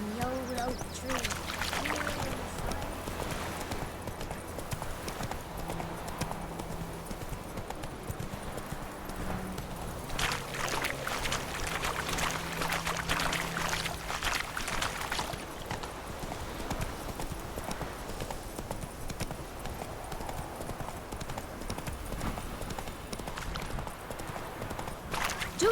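Horse hooves in The Witcher 3: Wild Hunt on Xbox One X clatter in a steady, continuous clip-clop throughout, moderately loud beneath game music and voices that talk over it.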